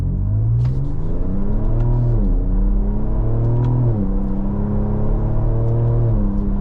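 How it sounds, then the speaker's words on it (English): A Ford Ranger Raptor's engine revs up again and again as its 10-speed automatic shifts through the gears on the paddles, each pass rising in pitch and then dropping at the shift, loud and close, with no talking. "We'll try shifting with the paddles."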